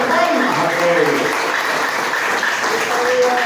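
A church congregation claps together in a steady, dense wash of applause that lasts throughout, with a voice talking over it.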